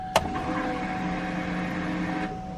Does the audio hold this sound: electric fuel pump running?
yes